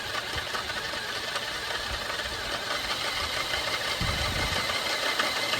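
A drill runs steadily as high-speed steel bits bore through steel, a continuous close mechanical whir with a rougher, heavier grinding stretch toward the end.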